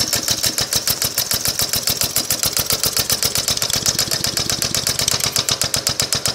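A two-cycle engine converted to run on air or steam, with its muffler still fitted, chugs in a fast, loud, regular stream of sharp exhaust pulses that speeds up slightly as it runs.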